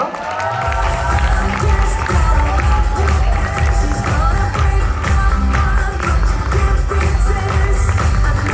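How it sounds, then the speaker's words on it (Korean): A seminar audience at a two-day company event in Cheonan breaks into loud, sustained applause and cheering to welcome a company president to the stage, a dense crowd roar with clapping and shouts that holds steady throughout. "레드 다이아몬드 곽중현 사장님 큰 박수로 환영해 주십시오."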